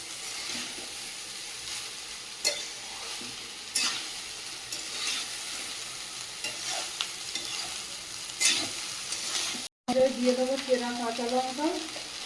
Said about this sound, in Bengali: দিয়ে ভালো করে ভেজে নেব